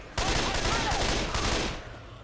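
Rapid, dense bursts of AK rifle fire in a video game, a near, loud, continuous rattle lasting about two seconds before trailing off into a lower-level din.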